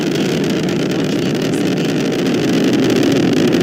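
Atlas V 551 rocket's RD-180 engines roar in a steady, dense broadband rumble during ascent, loud and unbroken with wind buffeting and no talk.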